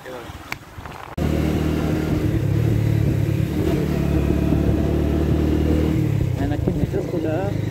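A car or motorbike engine passes close on a rainy road, loud and steady with revving throughout, beginning abruptly after a second of quieter ambience, with people talking over it.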